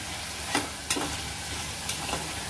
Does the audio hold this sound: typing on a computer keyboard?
no